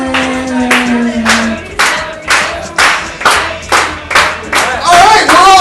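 Rhythmic unison clapping from a comedy night crowd, about nine loud, evenly spaced claps with a sustained tone and voices at the start, ending in a burst of cheering and louder clapping.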